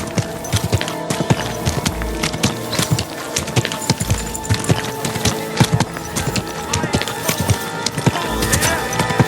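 Horse hooves clip-clop in a steady walking rhythm in the video game Kingdom Come Deliverance II, each hoofbeat crisp and close, with faint incidental sounds between steps.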